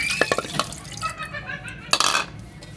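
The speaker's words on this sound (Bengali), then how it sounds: "মাংসতে একটু পানি অ্যাড করব আমি।" Water is poured onto beef being readied for a pressure cooker, a short splashing trickle with a couple of sharper clinks and liquid bursts, close and fairly loud, with no voices.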